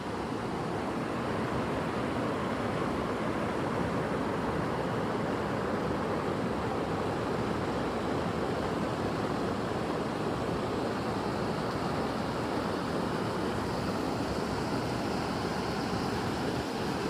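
Continuous rushing of rainwater flowing over a pond spillway among hills, a broad steady roar without pauses, fairly soft and even throughout, no voices.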